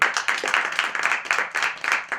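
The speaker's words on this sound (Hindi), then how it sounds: "जोरदार ताली इसके लिए।" Audience clapping at a seminar, a short burst of close, rhythmic hand claps in uneven pulses, loud and alone without talk.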